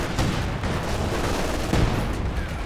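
A dense artillery barrage in Company of Heroes 2 rumbles on with overlapping booms and blasts, a steady, heavy wash of explosions with a few sharper hits, and no talk over it.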